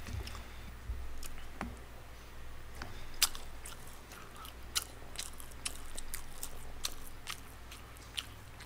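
Someone chewing a tuna mayo rice cup, soft close-up mouth sounds with scattered crunchy bites over a quiet background, no talking.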